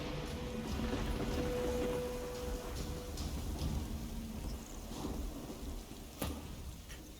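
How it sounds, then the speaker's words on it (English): Steady rain from a rain spell in the video game Divinity: Original Sin 2 pours down with a low rumble of thunder, plus a sharp crack near the end; no voices. "May as well just make it rain again."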